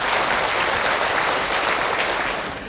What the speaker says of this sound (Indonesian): tepuk tangan untuk Ahilman.